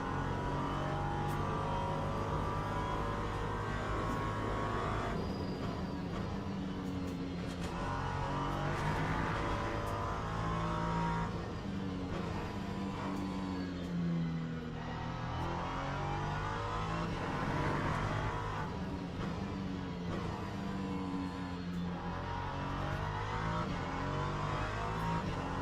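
Race car at Fuji Speedway accelerating hard out of a corner, engine note climbing and holding loud and close throughout, with a steady throttle-on roar and no talking.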